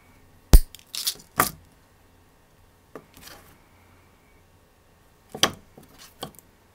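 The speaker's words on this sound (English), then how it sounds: "Cut the excess wire off." Wire cutters snip excess wire off an earthenware clay heart pendant, making a few sharp, close clicks and cracks in short clusters separated by quiet pauses.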